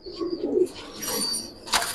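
Pigeons coo close by, with low throaty rolling calls and a brief higher flutter or chirp near the end, and no voices.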